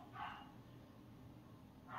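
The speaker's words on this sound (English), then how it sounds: "And my dog is still barking." A dog barks in short, faint bursts at the start and again at the end, with a low steady background in between and no one talking.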